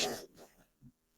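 A single short cough or throat-clear up close, followed by faint low murmurs and then quiet.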